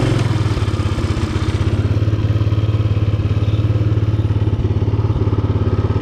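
A used Rokon motorcycle with a burnt clutch runs steadily nearby, its low engine chugging in a fast even rhythm with occasional clattering thumps.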